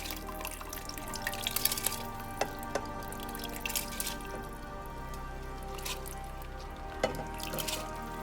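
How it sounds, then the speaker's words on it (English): Overnight-soaked sela rice goes into a pot over steady background noise, with soft wet squishing and scattered drips and taps. "These are the soaked sela rice overnight. So I'm adding all sela rice in here."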